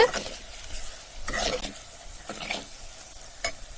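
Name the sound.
chili powder frying and being stirred in oil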